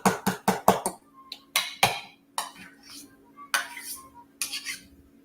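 A metal whisk beats a thick sugary mixture in a bowl, producing rapid clinking strokes in bursts separated by short pauses, close and fairly quiet.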